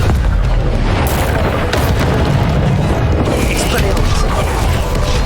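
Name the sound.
Confringo spell explosion, from the video game Hogwarts Legacy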